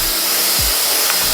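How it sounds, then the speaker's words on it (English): A hair dryer blows loudly and steadily while hair is dried around a round brush. The whirring airflow holds throughout, with a short low thump partway through. "we're going to turn on our dryer. Then we're going to blow dry"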